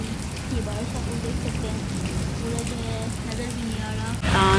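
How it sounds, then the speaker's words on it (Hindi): Steady rain pours onto a rooftop during a storm in Karachi, a dense continuous hiss that runs throughout and swells louder near the end, with faint voices mixed underneath. "ये बारिश हो रही थी"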